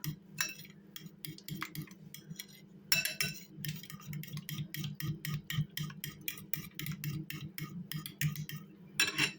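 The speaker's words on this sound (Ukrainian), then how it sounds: "Перемішую." A spoon stirs spices into a cauliflower mixture in a bowl, clinking steadily against the sides in a quick, even rhythm of close, bright taps over a low background hum, with no talking.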